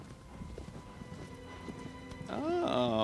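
Horse hooves clip-clopping in a video game, a quiet steady trot that ends in a loud, close neigh.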